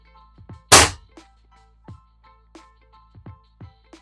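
An airsoft gun fitted with a high torque motor and a full sector gear cycles indoors: one loud sharp shot, then a string of quieter clicking mechanical cycles at an uneven pace.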